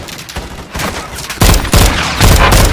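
Gunfire during a cartel bridge fight in the video game Call of Duty Modern Warfare 2: loud, close bursts of rapid automatic shots with heavy booming impacts, growing more intense and continuing without pause.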